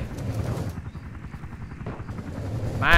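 Helicopter in the survival video game LifeAfter, a close, steady rotor chop pulsing rapidly throughout, with a brief brighter sound rising at the very end and no talking.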